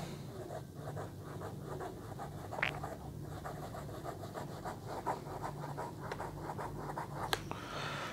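Airmail Wality 69P piston-filler fountain pen nib scratching across paper, a quiet close series of short scraping strokes with a few sharper ticks, no talk.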